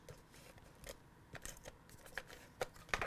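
Adhesive being applied along a strip of designer series card paper, heard as soft scattered rubbing and tapping clicks with a few sharper snaps near the end, close up and without talk.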